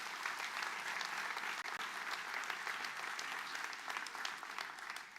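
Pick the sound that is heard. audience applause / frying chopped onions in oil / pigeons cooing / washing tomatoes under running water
audience applause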